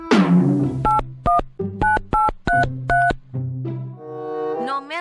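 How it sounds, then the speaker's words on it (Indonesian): A phone number is keyed in on a telephone, a string of about seven distinct DTMF beeps in a brisk rhythm following a fading tone, each beep clear and close. "Apa gua telepon Jani aja lagi ya?"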